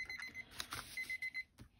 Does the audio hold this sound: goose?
no